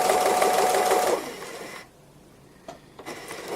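A sewing machine stitching free-motion embroidery on a squirrel design whirs loudly and steadily at first, then stops, leaving quiet with a few faint clicks and taps.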